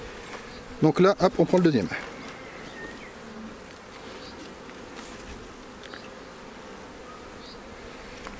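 Honeybees at an opened hive during a spring inspection make a soft, steady hum throughout, with a brief burst of louder sound early on while a voice speaks.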